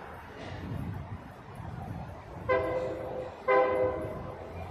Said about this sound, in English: There's a train whistle.